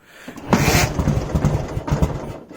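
A Dnepr MT10-36 motorcycle engine cranks and catches after sitting unused, a loud sputtering start that settles into an uneven low chug.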